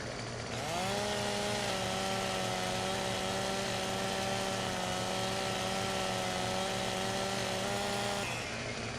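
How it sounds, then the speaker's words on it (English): Chainsaw in Farming Simulator 17 cutting into a tree: a steady, loud engine drone that revs up after a second, holds an even high pitch for about seven seconds, then drops away near the end. "Get in here with the old trusty chainsaw."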